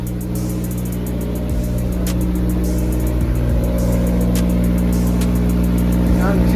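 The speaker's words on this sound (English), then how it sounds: "Let's go see what the exhaust sounds like out back." Car exhaust, freshly repaired and noticeably louder, rumbles steadily close by with a constant low engine drone and light revving throughout, voices faintly present beneath it.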